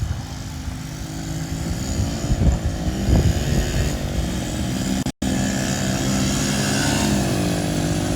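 A child rides a quad bike around a track, its small engine buzzing steadily and swelling slightly as it passes, heard from nearby with no talk.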